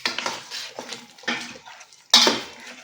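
A spoon scrapes and clinks against a pot while Nigerian okro soup is stirred, with rhythmic strokes about every half second, close and clear, ending in a louder metallic clank.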